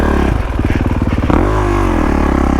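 A dirt bike engine revs with the clutch slipped, throwing a fast pulsing burble that swells in pitch and then settles into a loud, steady rising drone close to the microphone.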